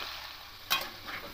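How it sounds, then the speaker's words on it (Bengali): Potatoes fry in a pan for a vegetarian ridge gourd and poppy seed dish, a soft steady sizzle with one brief sharp scrape of stirring partway through. "তো একটু আলুটা ভাজা ভাজা করে নেব।"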